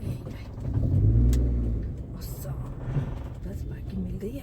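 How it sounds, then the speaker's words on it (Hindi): A car pulls out of a parking spot in a busy Indian market street, its engine rumbling up close and swelling then fading, with someone talking over it and general street noise behind. "वाह लकी अभी गाड़ी निकली"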